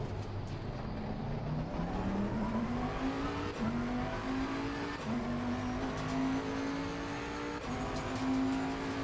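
Race car engines whine and rev in Gran Turismo 7, a steady rising engine tone climbing through gear changes with brief shift drops, while other cars drone nearby in a continuous racing mix.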